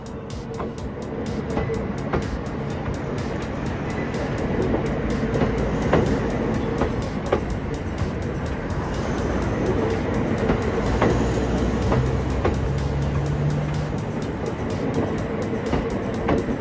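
E232 series train rolling past on the rails: a continuous heavy rumble with repeated rhythmic clicks of wheels over rail joints, steady and fairly close, with no talking.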